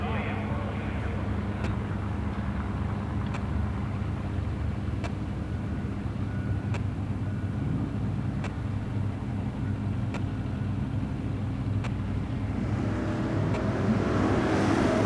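Drag race cars at a season finals event, including a 1972 Chevy station wagon, roar with a steady, loud engine rumble throughout, swelling slightly near the end, with faint voices beneath.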